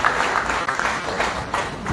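A crowd at a press conference for the PAI Terra Ranka coalition applauds Agnello Augusto Regala, a dense, steady patter of clapping that runs through the short stretch.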